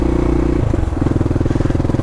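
Motorcycle riding through sand at a steady, constant throttle, its engine giving a loud, close, continuous pulsing drone that shifts slightly in pitch after the first moment.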